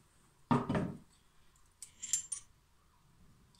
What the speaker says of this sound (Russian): снимаем затвор